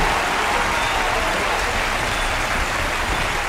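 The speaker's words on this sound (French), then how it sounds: "On acclame Jésus" A church congregation applauding to acclaim Jesus, a dense, loud, sustained wash of clapping from a large crowd with no break.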